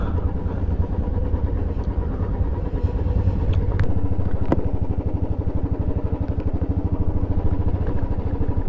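A small tractor engine runs steadily nearby in a Himalayan mountain village in the Darma Valley, a continuous loud chugging rumble with a few brief clanks, no talking.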